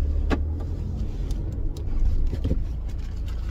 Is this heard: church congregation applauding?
no